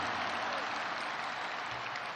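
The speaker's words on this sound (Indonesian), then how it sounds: "Kita berikan tepuk tangan untuk Ketua Umum Partai Demokrat, Mas Agus Harimurti Yudhoyono." Applause from a large crowd at an outdoor political party rally, a continuous and even roar of clapping that holds at a constant level with no distinct claps or voices standing out.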